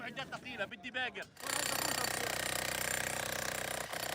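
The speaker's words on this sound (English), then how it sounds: "So at best they have these drills, and not much power to run them." Power drills break up rubble during clearance work under a ceasefire, where heavy machinery is unavailable; a brief stretch of voices gives way to a loud, steady, continuous rattling grind that runs without pause to the end.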